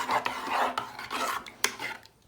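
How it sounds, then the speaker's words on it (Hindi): Utensil scraping and stirring green chutney into dahi in a bowl for dahi bhalla, a rough rasping rhythm with a few sharp clinks against the bowl, close and fairly quiet with no talking. "इसके अंदर हम लोग ये अपनी जो चटनी है वो ऐड करेंगे और इसको अच्छे से मिक्स कर देंगे।"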